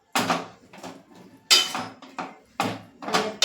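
Chopped tomatoes go into a pan for Kathiyawadi sev tamatar shaak and get stirred, making a series of close, loud scraping and knocking bursts in an uneven rhythm.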